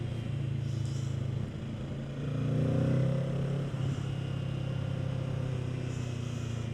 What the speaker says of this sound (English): It was nice pull in third gear